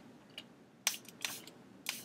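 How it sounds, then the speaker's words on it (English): A few quick, faint hissing spritzes from a spray mister spraying paint and water, spaced irregularly against a quiet background. "go ahead and spray"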